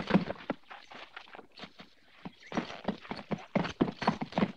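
Several horses set off at a walk on hard ground, hooves clip-clopping in a dense, uneven rhythm, close and fairly loud, with a brief whinny among the steps.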